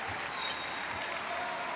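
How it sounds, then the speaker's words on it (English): Steady crowd applause filling the Smart Araneta Coliseum basketball arena near the end of a SEABA 2017 men's game, a continuous wash of clapping at even volume throughout. "They get an applause from this crowd inside a Smart Araneta Coliseum."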